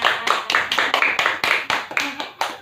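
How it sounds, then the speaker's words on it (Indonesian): Children clap their hands in a group during an anti-corruption education session, a run of sharp, fairly loud bursts of claps coming in quick uneven waves, with some voices mixed in. "Ya, tepuk tangan."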